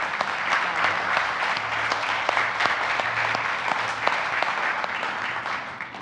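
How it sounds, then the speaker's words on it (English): An audience applauds at the close of a medical spatial computing event, with dense, steady clapping filling the room for several seconds and no talk over it. "Maybe one more round of applause for all of them."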